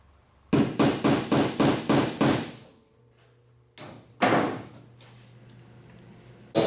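A hammer strikes a nail punch in rapid succession, about six sharp close blows, then a couple of heavier isolated hits, while working on window trim studs of a 1976 Trans Am in a workshop.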